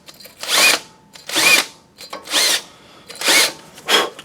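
A power tool grinds rust off the front brake parts of a 2014 Honda Accord in five short bursts, each about half a second long with brief pauses between, loud and close.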